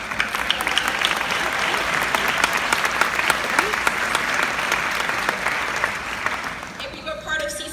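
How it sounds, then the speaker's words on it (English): Sustained applause from a room of people at a youth ministry gathering honoring 2019 graduates, dense clapping at a strong, steady level that thins out near the end as a voice begins speaking. "let's give them a applause"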